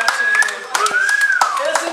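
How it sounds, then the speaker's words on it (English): Hands clap together in quick, sharp bursts during speeches at a stag party, the applause fairly close and steady for about two seconds while people talk and call out over it. "A round of applause"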